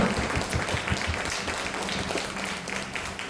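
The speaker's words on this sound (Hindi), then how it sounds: "आइए हम एक जोरदार ताली अपने खुदा को सजनी करते हैं" A church congregation claps loudly in worship, a dense, steady wash of many hands applauding together at close range.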